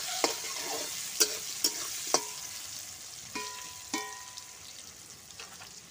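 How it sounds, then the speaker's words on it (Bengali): Potatoes fry with salt and turmeric in a pan, a soft steady sizzle broken by several sharp metallic clinks and scrapes of a spatula stirring, close by with no talking. "দিয়ে আলুটা একটু ভেজে নেব"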